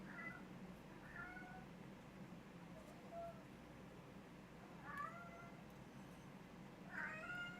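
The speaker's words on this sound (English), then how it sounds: "Sorry if you can hear my cat Coco, she's wound up right now and running around." A pet cat named Coco meows several times in short, rising calls spread across the stretch, fairly close but modest in level over a steady low background hum, with no talking.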